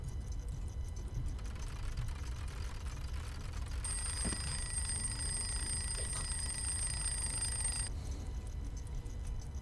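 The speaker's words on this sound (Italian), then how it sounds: "faccio girare la sveglia" An alarm clock rings in the video game Metamorphosis, a bright, sustained metallic ringing that starts suddenly, holds steady for about four seconds and cuts off, over a low constant background rumble.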